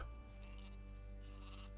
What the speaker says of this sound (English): I'm seriously so distracted by that sheep.